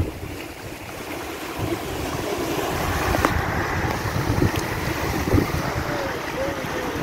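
Steady wind gusts across the microphone beside the sea off St. Thomas, Jamaica, on a windy morning, with a rough, continuous roar of waves and surf and a few faint voices in the background.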